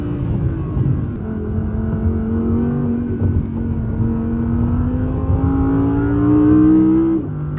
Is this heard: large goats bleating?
no